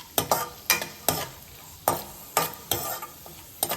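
Raisins fry and get stirred in a pan while making rava laddu: a soft sizzle under sharp, separate scrapes of a spoon, about seven strokes at an uneven pace, close up with no talk.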